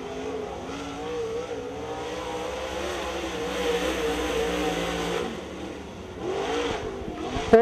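A race car on a qualifying lap at a volunteer racing series event, its engine droning steadily and swelling as it rounds the track, rising in pitch near the end before a sharp burst.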